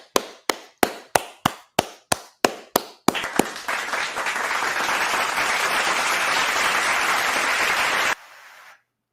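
About a dozen sharp, evenly spaced single hand claps in a reverberant studio, followed by a burst of continuous group clapping and applause that stops abruptly.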